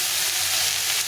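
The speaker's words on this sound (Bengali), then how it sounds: "এই সবগুলোকে একটু ভেজে নেবো হালকা করে।" Vegetables with ridge gourd fry lightly in a pan for a fish-head kata chorchori, giving a steady, close, continuous sizzle with no talking.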